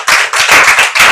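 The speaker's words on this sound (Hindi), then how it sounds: "सबके लिए एक बार तालियां" Audience clapping at a Hindi-language talk or gathering, a short burst of loud, dense applause with slight pulsing dips, close and without speech.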